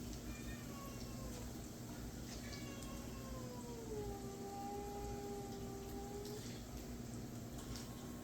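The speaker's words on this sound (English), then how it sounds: "the cats are just voicing their opinions about everything at the moment" Several cats meow in a house where kittens were recently born, their drawn-out calls rising and falling over steady kitchen background hum, fairly faint and spaced across the stretch.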